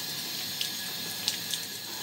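Tap water runs steadily while makeup brushes are wetted by hand, giving a continuous hiss with a few small splashes and drips on top.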